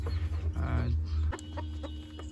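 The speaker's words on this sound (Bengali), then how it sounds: "আমেরিকান লাইট কোচিন ব্যান্টাম নামে পরিচিত এই মুরগি" An American Light Cochin Bantam chicken clucks in a run of short, close calls, with a low steady background hum and no talk.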